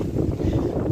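Wind buffeting the microphone outdoors during car electrical work on a Skoda Fabia, a steady low rumbling roar for under a second with no voices.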